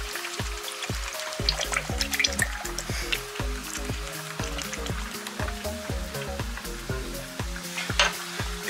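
Buffalo wing sauce with two bottles of Tabasco stirred in a pot on the stove, a steady rhythmic scraping of the spoon through the bubbling, sizzling liquid, close and continuous with no talk.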